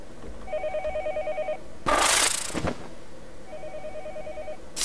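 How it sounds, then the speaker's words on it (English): Game phone in Yomawari: Night Alone ringing in two bursts of rapid electronic trills, one near the start and one near the end, with a loud noisy thump and rush between them over a quiet ambient bed. "What, you want me to answer the phone again?"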